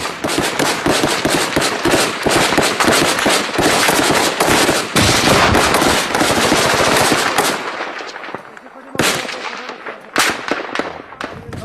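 Heavy gunfire rattles through an Afghan war battle, loud sustained automatic bursts overlapping densely, then thinning into separate sharp shots near the end.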